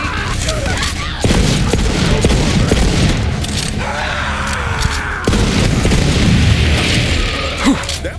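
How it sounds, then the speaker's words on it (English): Sustained gunfire fills a firefight against bandits in Borderlands 3, loud bursts and booms layered over game music and explosions, with rapid shots continuing throughout. "That was some damn fine shooting."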